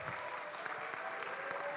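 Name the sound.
audience applause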